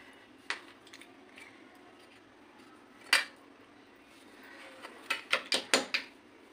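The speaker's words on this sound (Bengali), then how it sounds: "একটু হাতার সাহায্যে চটকে নেবো।" Boiled Indian gooseberries (amla) being mashed with a metal ladle in a pot, a few sharp scattered clinks followed by a quick run of five knocks, close and fairly faint against a quiet room.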